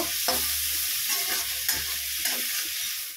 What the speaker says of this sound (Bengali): এই গাজরগুলো আমি একটু সুন্দর করে লাল লাল করে ভেজে নেব।